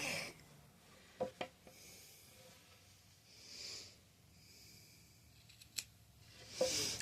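Colorful scissors snip through yarn during a yarn art project, giving a few quiet, sharp cuts close by with soft rustling between them and no talking.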